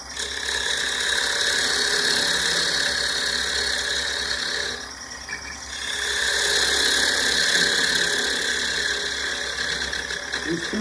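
A lathe turns a wooden jar lid with a scraping cut across the bottom, giving a loud, steady whirring and rasping tone that dips briefly midway and then resumes.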